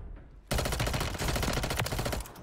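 Automatic gunfire in the video game Call of Duty Warzone on Rebirth Island, a sudden loud, dense rapid burst of shots that runs continuously for about two seconds.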